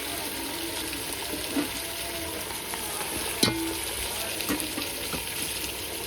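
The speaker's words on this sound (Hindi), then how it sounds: "फिर हम डाल देंगे चिकन, ये डाल दिया हमने चिकन, तो हम डालेंगे इसमें लहसुन और अदरक का पेस्ट थोड़ा सा।" Chicken with a little garlic-ginger paste frying in a pan, giving a steady close sizzle with a few stirring scrapes and clinks, no talking.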